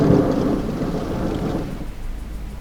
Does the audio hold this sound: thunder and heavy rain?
yes